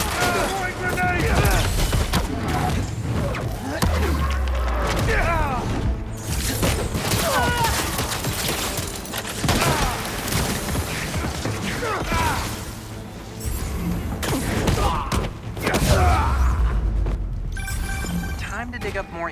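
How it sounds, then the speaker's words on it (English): A grenade blast in Marvel's Spider-Man 2 game combat, a heavy boom among constant crashing, shattering and fight noise, with a voice calling out over the chaos. "Throwing grenade!"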